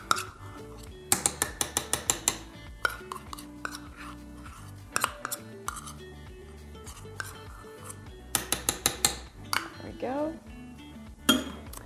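A spatula scrapes peanut butter down the sides of a mixing bowl while making peanut butter buttercream, giving clusters of sharp clinks and scraping knocks in bursts, close and fairly loud, with a voice speaking in between.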